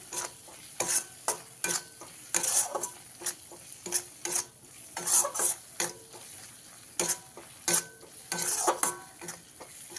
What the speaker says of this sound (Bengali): এবারে সব শেষে দিয়ে দেবো হাফ চামচ জিরের গুঁড়ো দিয়ে খুব ভালো করে আবারও মিশিয়ে নেবো